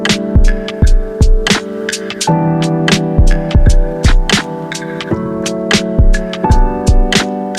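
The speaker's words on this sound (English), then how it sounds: "I also just want to grab the kick from this beat." Punchy low kick drum hits repeat through a looped hip hop beat on a Roland SP-404 sampler, steady and prominent alongside layered sampled melodic chords.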